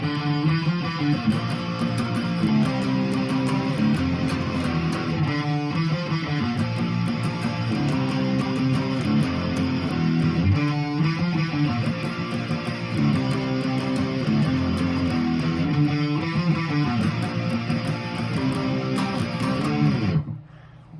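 Electric guitar plays a riff, a sustained, distorted, repeating melodic line heard alone and loud for about twenty seconds before stopping abruptly.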